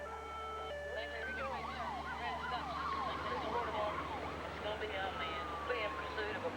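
A police car siren wails continuously during a high-speed pursuit, its sweeping yelp cycling up and down steadily over engine and road noise, loud and close throughout.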